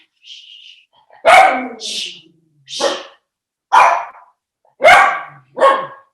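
Dogs barking, heard as a series of about six loud, close, separate barks with a softer yip or whine mixed in, each bark clear and distinct with no talking over them.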